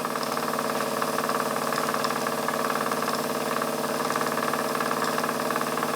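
A Wilesco D20 model steam engine runs at light throttle on 24.5 psi with no load, a fast, even, continuous ticking and chuffing beat heard close up and alone.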